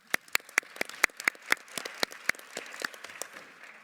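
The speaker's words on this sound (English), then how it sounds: "Also an applause." Applause from the audience at an education conference session: distinct individual claps, loud and close, spaced rhythmically over a softer patter of other hands that thins toward the end.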